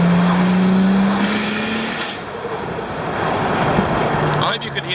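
Turbocharged car engine running at about 17.5 psi of boost, loud and close with a rising engine tone, then easing as it drops a gear, with turbo whoosh and road noise throughout.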